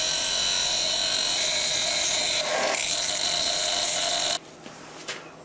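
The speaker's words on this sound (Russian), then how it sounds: "Включаем наждак и начинаем грубую сначала обрабатывать на наждаке." Bench grinder roughly shaping a wooden piece for a kitchen item, a loud steady whine with a brief scraping contact midway that cuts off abruptly near the end, leaving faint room noise.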